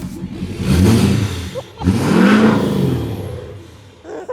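A loud Ford F-350 Powerstroke diesel truck engine with an upgraded exhaust and EGR delete revs hard twice, each deep roaring surge rising and falling close by, with a rumbling exhaust note.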